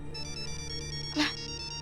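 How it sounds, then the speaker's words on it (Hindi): A phone ringtone plays as a steady pulsing electronic melody, repeating in quick beats with a brief louder burst partway through, in an indoor scene from a Hindi TV comedy series. "किसका फोन है?"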